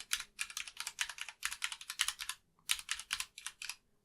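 Someone types on a Vortex Pok3r RGB 60% mechanical keyboard in quick bursts of crisp, clacky keystrokes with a brief pause midway, close and fairly quiet, with no one speaking.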